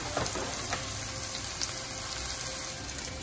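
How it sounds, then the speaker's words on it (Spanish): Seasoned turkey meat, salted and peppered, sizzles and fries in a pan with a continuous crackling hiss, small pops and faint stirring, steady and close throughout. "Mientras la carne se está cocinando"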